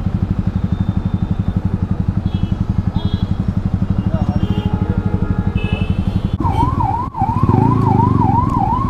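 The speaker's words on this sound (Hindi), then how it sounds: "गाइस एम्बुलेंस को साइड दिया करो यार" An ambulance siren wails on the road with a rapid, wavering rise and fall. Before it, a Yamaha MT-15 motorcycle with a loud exhaust throbs in steady, close pulses.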